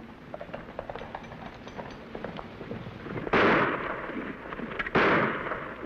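Two loud gunshots ring out a couple of seconds apart over background bustle, fired over people's heads in a western TV episode, each with a broad sharp onset and lingering decay.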